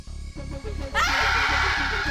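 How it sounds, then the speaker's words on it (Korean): A woman's loud, sustained scream at a 1921 party erupts about halfway through and holds to the end, over steady rhythmic background music. "잠시 후 레이프의 비명소리가 들려왔고"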